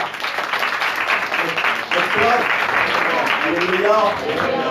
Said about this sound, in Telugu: గట్టి చప్పట్లు కొట్టరా